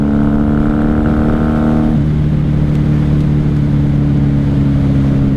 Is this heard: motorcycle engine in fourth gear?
yes